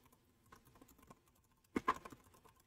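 Quiet clicking of a computer keyboard during Python coding, soft irregular key taps that end in a short, louder flurry, with no talking.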